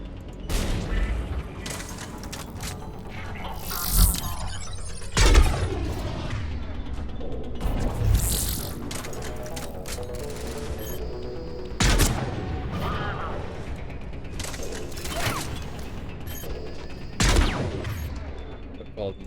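Sniper rifles fire in a Mass Effect 3 battle, with several loud sharp shots and booming bursts spaced apart over ongoing combat noise, with voices talking at times.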